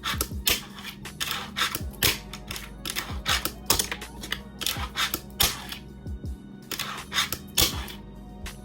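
A fingerboard doing ollies as a finger flicks and pops the small board, giving close, sharp clacks and taps repeated in quick irregular bursts, with no talk.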